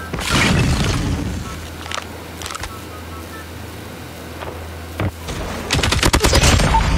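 Bursts of LK24 rifle fire in a first-person shooter game, rapid automatic volleys starting loud, thinning to scattered shots, then a dense, loud barrage at the end over a low rumbling game backdrop.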